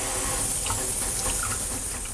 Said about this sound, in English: so I'm going to first wash my hands